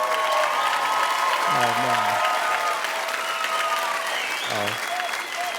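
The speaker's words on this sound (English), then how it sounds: "Give yourselves a big round of applause." Theatre audience applauding loudly and continuously after a closing speech, broad sustained clapping with a voice speaking briefly over it.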